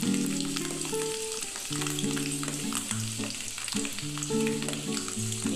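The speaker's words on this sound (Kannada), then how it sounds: "ಸಣ್ಣದಾಗಿ ಹೆಚ್ಚಿಟ್ಕೊಂಡಂತಹ ಬೆಳ್ಳುಳ್ಳಿನ ಎಂಟರಿಂದ ಹತ್ತು ಬೆಳ್ಳುಳ್ಳಿನ ಹಾಕಬೇಕು ಇವೆಲ್ಲ ಚೆನ್ನಾಗಿ ತುಪ್ಪದಲ್ಲಿ ಹುರ್ಕೊಳ್ಬೇಕು" Finely chopped garlic, eight to ten cloves, fries in ghee for capsicum rice, giving a continuous close sizzle and crackle with a melodic tune playing underneath.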